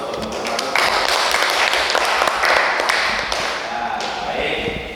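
Students in a classroom applaud after a group presentation, with dense, even clapping close by that continues for several seconds before thinning slightly.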